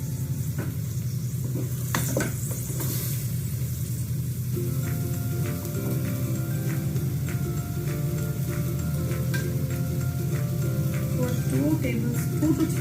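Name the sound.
mutton frying in a pan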